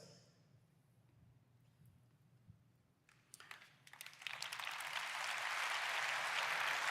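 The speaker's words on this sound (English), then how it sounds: "that clap was a little sad." Sparse, scattered hand claps from a keynote audience at a tech conference build into broad, steady applause, starting thin and quiet before swelling to a fuller, sustained clapping over a low room hum.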